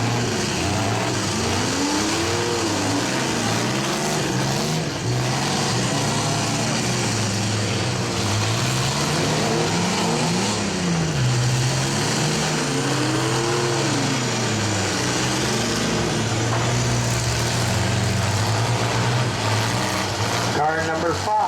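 Minivan and mini-truck engines rev and roar continuously at a demolition derby, pitch rising and falling as drivers accelerate, with loud announcer-style talk running over the engine noise throughout.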